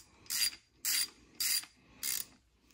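A ratchet wrench tightening a bolt on a K-swap oil pump kit in a Camaro engine bay, four evenly spaced bursts of rapid clicking, close and clear with no talking.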